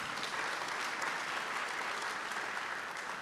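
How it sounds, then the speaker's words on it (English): Steady applause from a seated audience at a panel dialogue, a dense even wash of clapping heard at a distance and fairly quiet, with no voices over it. "Another round of applause for the panel,"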